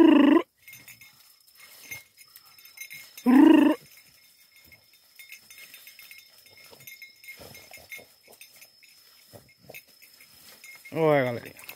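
A young female dog gives a few separate high-pitched barks with quiet pauses between them during an armadillo hunt, heard over soft outdoor background noise.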